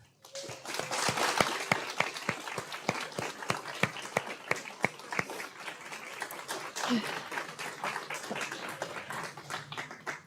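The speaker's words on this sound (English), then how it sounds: "Please join me in offering these 6 new teams a big round of applause and congratulations." Applause breaks out at a service dog graduation ceremony to honor six new service dog teams: a steady patter of many hands clapping, moderately loud, lasting throughout with a few sharper individual claps standing out.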